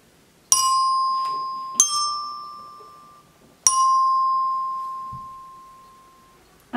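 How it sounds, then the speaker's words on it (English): Three chimes struck one at a time, each a bright metallic ring with a sharp attack that sustains and slowly fades, sounding a short do-re-do pattern as a melodic dictation example in a music lesson; no talking. "Where you can see the chimes just now, and then later on I'll hit them"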